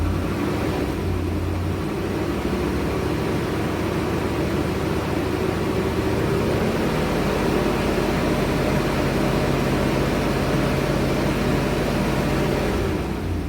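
A Land Rover Discovery 4.0L engine, whose oil pressure relief valve has been repaired, runs steadily at about 2,000 RPM, a continuous, even drone with a faint hum and no talk.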